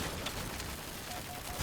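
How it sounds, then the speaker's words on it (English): Dense, continuous roar of a minigun firing in the vehicle combat game Crossout, a steady loud stream with no breaks for the whole short burst. "Minigun."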